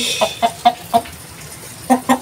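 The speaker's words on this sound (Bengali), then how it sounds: "এরপর একটা মুরগি" A chicken clucks six times nearby, short sharp clucks in two quick groups separated by a brief pause.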